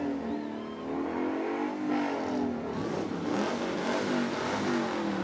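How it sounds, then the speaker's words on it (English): A pink Ford Mustang fitted with a trim kit revs its engine during a floral parade, the motor rising and falling in loud, close throaty surges over a continuous low rumble. "Look at the pink Mustang right there. They've got a little trim kit on his. Can you hear that rev?"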